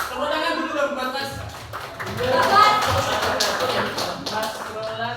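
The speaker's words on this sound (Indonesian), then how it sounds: "tepuk tangan dulu dong buat Mas." A classroom group claps in a scattered burst of light taps that swells midway and fades, with a teacher's voice talking over it.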